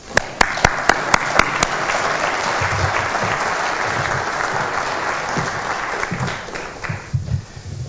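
An audience at a lecture on the Arctic breaks into sustained applause welcoming the speaker, a dense roomful of clapping that follows a few sharp opening claps and fades slightly toward the end.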